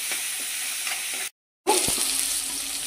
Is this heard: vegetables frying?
yes